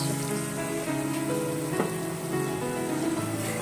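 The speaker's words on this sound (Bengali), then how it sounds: "এবার আমি এই মশলার বাটি ধোয়া জলটা একটু দিয়ে দিচ্ছি।" Spice-bowl rinse water hits a pan of frying tilapia with coriander leaves, giving a steady, fairly loud sizzle and crackle that continues throughout with no talking.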